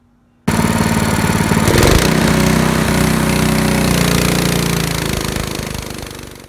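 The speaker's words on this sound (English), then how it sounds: "Now let's take a look at the throttle when the dyno load is applied." A Predator 212cc small single-cylinder engine runs under dyno load, starting abruptly with a loud, steady, rough mechanical drone that holds for several seconds, then slowly fades, close to the microphone with no talking.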